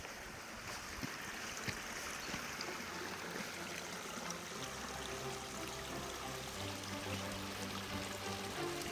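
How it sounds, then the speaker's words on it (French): Small streams trickle and babble through a fir forest near the Aubrac, a steady, soft wash of running water heard alone at low volume. "Les nombreux petits ruisseaux viennent chanter au cœur de la forêt"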